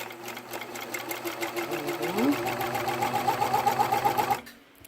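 A serger runs at a slow, steady pace through lightly stretched fabric for panties, its close, rapid mechanical stitching hum rising in pitch midway before stopping abruptly.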